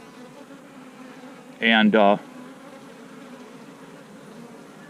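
Honey bees buzz around a nuc box in a steady low drone, with a brief voice cutting in midway.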